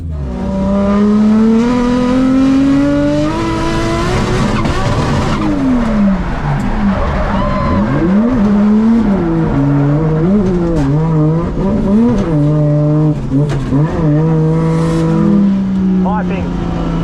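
A drift car laps the track, its engine revving loud and rising and falling through gears as tyres squeal, all close and continuous with voices faintly underneath.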